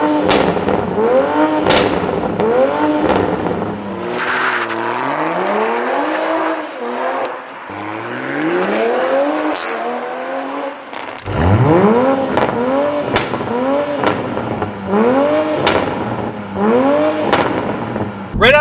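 Stock 2020 Toyota Supra with the B58 engine, its exhaust rising and falling through repeated rev sweeps and accelerations, with sharp crackling pops and burbles between pulls, loud and close throughout.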